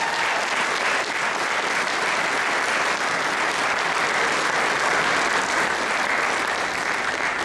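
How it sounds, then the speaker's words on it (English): Steady, dense applause from an audience at a mayoral inauguration ceremony, sustained and loud throughout with no break, the crowd clapping continuously. "Let's give a nice round of applause for State Representative Bemis Clarence."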